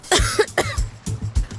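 A woman coughs in a drama scene, a run of four or five sharp, close coughs in quick succession with no talk over them.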